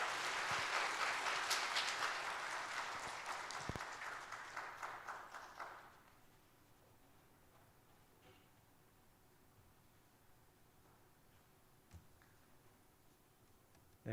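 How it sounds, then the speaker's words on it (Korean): A church congregation applauds during a Sunday worship service, loud sustained clapping for about six seconds that then stops abruptly, leaving a quiet room with only faint scattered sounds. "큰 박수로 다시 한번 축하하겠습니다."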